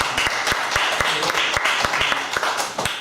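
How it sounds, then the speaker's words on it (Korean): An audience at a church gathering claps together in a brief burst of applause, with dense rapid hand claps that fill a room for a few seconds. "우리 박수 한번 주세요."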